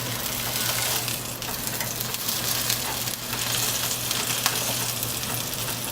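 Meatball mixture frying in a pan while being pressed flat with a spatula, a dense continuous sizzle with a low steady hum beneath and faint scrapes, close and even, without speech.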